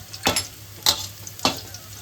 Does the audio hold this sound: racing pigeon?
no